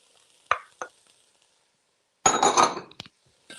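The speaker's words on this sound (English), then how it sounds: "So I'm gonna drop in the garlic next. So you have onions, celery, and garlic, 4 cloves of garlic." Four cloves of garlic dropped into a pot with onions and celery, giving a short clatter and then a burst of close sizzling and stirring, followed by a few faint clinks.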